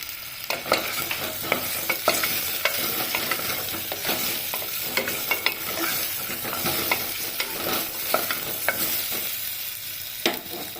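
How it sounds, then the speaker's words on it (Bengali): Potatoes fried lightly in a pressure cooker for a mutton dish, a constant oily sizzle broken by frequent sharp clinks and scrapes of stirring, close and fairly loud throughout. "প্রেসার কুকারে একেবারেই আলু এতেই ফ্রাই করে নিচ্ছি"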